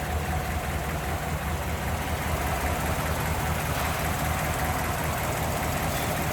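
The V8 engine of a 1956 Ford Crown Victoria idles smoothly, a steady close-up rumble with an even hiss throughout and no voices.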